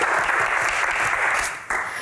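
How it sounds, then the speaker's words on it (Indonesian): Audience applause for Prilly Latuconsina at a live talk show taping, a dense steady clapping from a crowd that holds strong throughout, dipping briefly before a fresh burst near the end. "tepuk tangan sekali lagi untuk Prilly Latuconsina"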